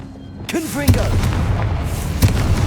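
A Confringo spell cast in Hogwarts Legacy lets off a booming blast, then a second thud a little later, while a voice talks over the sounds.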